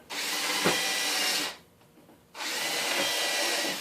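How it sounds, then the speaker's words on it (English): A power drill whirs in two long bursts separated by a brief pause, close and loud, pre-drilling through plywood with a countersink bit. "the reason I'm pre-drilling is because it'll suck this plywood up to the other plywood"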